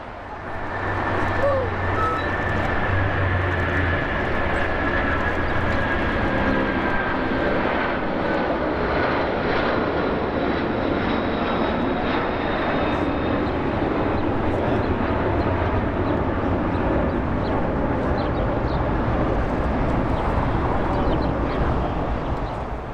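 A British Airways heavy jet, Speedbird 282, roars steadily down runway 25 right on its takeoff roll. The engine noise is loud and sustained, with a faint high whine on top, and no voices can be heard.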